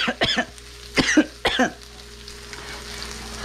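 Three quick coughs from chili fumes sound close by over a wok of chili flakes and Szechuan peppercorns that keeps sizzling softly underneath.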